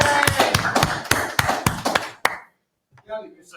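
Small audience at an IETF working-group meeting gives a second round of applause: a quick burst of sharp, distinct claps that stops abruptly, followed after a pause by a voice talking.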